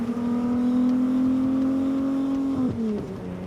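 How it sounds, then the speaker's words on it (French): An engine in a car from the Italian Fiat-to-Ferrari lineage holds a steady, loud droning tone under acceleration, then its pitch drops sharply near the end as it shifts or lifts off, with no talking. "Le son d'un moteur, quoi."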